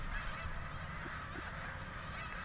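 Geese honking faintly in the distance in Milton, Delaware, over a steady background hiss, a few scattered calls rather than a loud flock.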